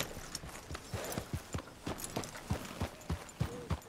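Horse hooves clip-clop on a trail in the video game Red Dead Redemption 2, a steady, even rhythm of close hoofbeats with no talking over them.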